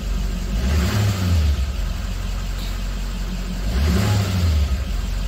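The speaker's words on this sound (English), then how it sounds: "It's a quick, easy one while I can press the gas pedal and we can watch it." A car engine idles, then revs twice as the gas pedal is pressed during an OBD II scanner test. Each rev is a loud, low rising-and-falling surge with steady idle rumble in between.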